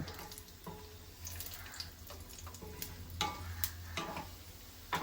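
Cashews fry in oil in a pan until golden, giving a quiet, steady sizzle broken by intermittent stirring clinks and scrapes, heard close with no talking.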